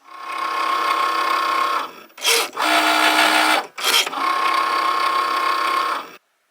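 A Cricut smart cutting machine scoring paper makes a loud whirring motor hum in three long runs split by brief sharp mechanical clicks and carriage movements, ending abruptly.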